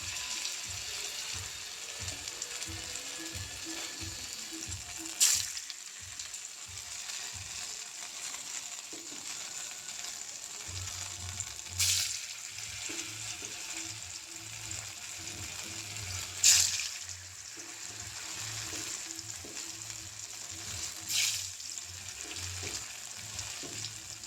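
Small pieces of maida flour dough frying in hot oil make a quiet, continuous sizzle, broken every few seconds by a sharp pop or spatter.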